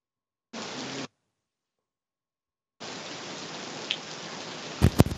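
Heavy rain falls in Elbasan during a November storm, a dense steady hiss that cuts in briefly, stops, then returns for a longer stretch with a few sharper knocks near the end.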